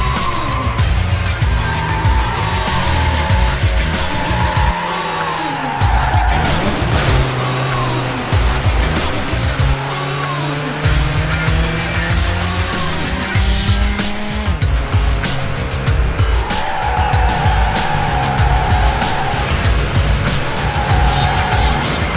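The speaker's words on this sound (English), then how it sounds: "Vehicle is a red Ford TS-50." A red Ford TS-50 races in Need for Speed Hot Pursuit 2, its engine revving and droning loud and close throughout while tires squeal and skid repeatedly through corners.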